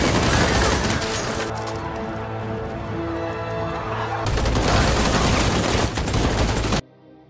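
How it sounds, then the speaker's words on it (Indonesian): Sustained military gunfire in a film scene, dense bursts of automatic shots and heavy booms rolling continuously for several seconds over a loud battle din, then cutting off abruptly near the end. "militer langsung melepaskan tembakan membantai seluruh kelompok gangster ini"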